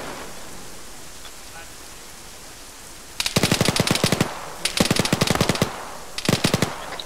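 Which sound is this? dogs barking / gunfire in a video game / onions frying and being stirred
gunfire in a video game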